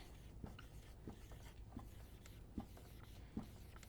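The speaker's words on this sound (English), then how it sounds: "So we would write today's date as Wednesday" A marker squeaks and scratches across a board as a date is written, a run of short, close strokes with small taps, steady and quiet with no talk.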